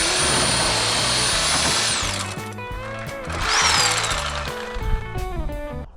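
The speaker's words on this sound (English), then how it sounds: "So I'm gonna do it the way God intended and use a Sawzall." A Sawzall reciprocating saw cuts through a truck body mount with rapid, loud rattling strokes that change pitch as the blade bites and the motor revs, close up and alone.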